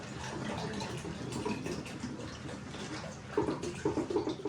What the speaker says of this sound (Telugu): చారు మా ఇంట్లో ఫుల్గా వాటర్ అయితే పోసేసుకుంటున్నాను